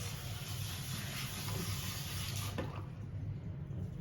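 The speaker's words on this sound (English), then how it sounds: "I'm just rinsing out the color before I apply her end glaze toner" Steady water streaming from a salon shampoo-bowl sprayer while hair color is rinsed out: an even, continuous hissing rush at close range that thins slightly near the end.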